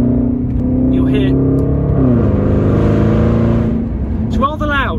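A powerful Jaguar XJR engine drones loudly and steadily, heard from the back seat, its pitch dipping and climbing as it revs, with brief voices near the start and end.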